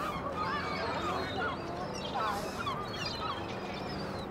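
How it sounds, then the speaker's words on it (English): Seagulls calling along the Blackpool seafront during a street protest, with several squawking cries scattered over a dense, steady bed of outdoor noise. "We got some seagulls right there."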